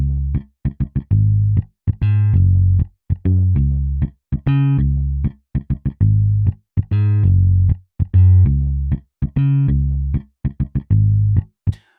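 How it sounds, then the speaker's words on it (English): A simple groovy synth bass line programmed in FL Studio plays alone in a bouncy, syncopated rhythm of short plucked notes and longer held tones, loud and close. "just a simple groovy bass"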